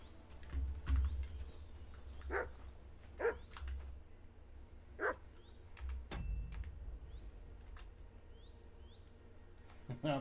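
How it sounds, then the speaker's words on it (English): A dog in the video game Kingdom Come: Deliverance 2 barks several times in a forest setting, short separated barks at moderate distance over a low ambient bed, with faint bird chirps in the background. "Who are you barking at?"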